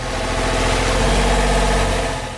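A sailboat's engine with a fault that makes it hunt for revs runs close and loud, giving a steady low, rumbling drone with no clear rise or fall and no talk over it.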